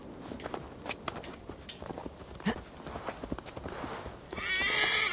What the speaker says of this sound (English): Hey, this horse is loyal.